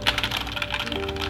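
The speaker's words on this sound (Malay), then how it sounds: "ini adalah wireless mechanical keyboard favorite saya" Typing on a Maibenben DMK02 wireless mechanical keyboard with red switches: a run of quick, fairly muted key clicks at an uneven pace, close by, with a faint steady tone in the background near the end.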